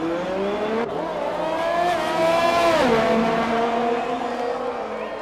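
F1 cars race around Monaco in a racing video game, engine notes whining up and down in sweeping pitch as one car passes close, with a skid-like squeal in the middle.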